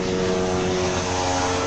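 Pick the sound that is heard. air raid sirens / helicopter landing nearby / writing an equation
helicopter landing nearby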